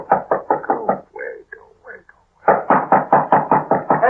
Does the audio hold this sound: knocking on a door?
yes